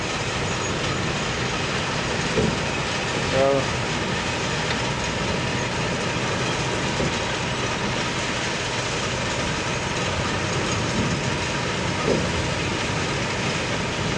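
Steady industrial drone from the Weyerhaeuser lumber mill in Raymond, Washington, running on a typical Sunday night, a continuous broadband roar with faint clanks and a brief squeal, heard from a distance and unbroken throughout.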